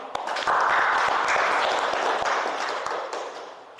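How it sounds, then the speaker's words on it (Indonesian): Applause from a classroom audience after a group presentation, a few seconds of scattered clapping at moderate level that fades toward the end. "Sebelumnya kita tepuk tangan lebih dahulu"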